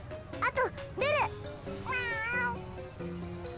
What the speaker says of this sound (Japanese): うちのスポンサー様の猫なの。